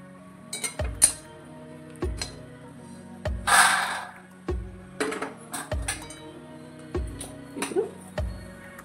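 Dishes clink as roasted lentils are moved onto a plate in a home kitchen, with a series of sharp, separate taps and knocks of metal and ceramic at an uneven rhythm and one brief scraping rustle.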